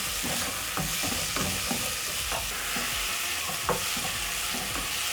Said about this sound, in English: Stir this, and as you can see, the meat has a nice golden brown color